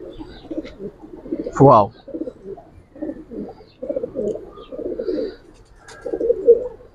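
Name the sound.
giribaz and coloring pigeons cooing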